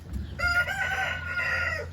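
A Plymouth Rock rooster crows loudly and close by in a chicken coop, one long rising and falling call over faint low background noise.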